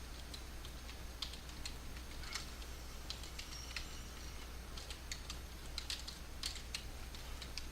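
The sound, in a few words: computer keyboard typing a Minecraft chat command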